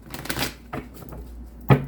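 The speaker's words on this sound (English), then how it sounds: "One more shuffle" A deck of tarot cards is shuffled in quick papery riffles and soft slaps, ending with a sharper card tap, close and with no talking.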